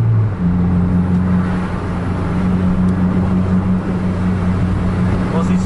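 Heavy holiday traffic of cars and motorbikes on a busy road in northern Sumatra, heard from a moving vehicle as a loud, continuous engine drone and road roar with a steady low hum throughout.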